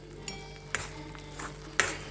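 Masala sizzling and being stirred in a pan for a cashew and peas curry, with soft frying hiss and several sharp clinks and scrapes of a spoon against the pan.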